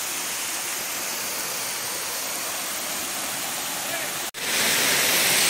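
Darhal Abdullah Waterfall in a forest near Rajouri, a steady loud rushing roar of falling water that fills the clip, with a brief dropout near the end.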